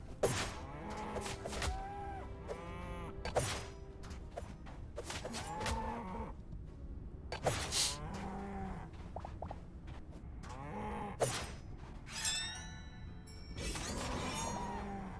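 Undead cows in the video game Hytale moo repeatedly, several drawn-out lowing calls spaced through the scene over a low ambient game bed, with occasional sharp shattering crashes between them.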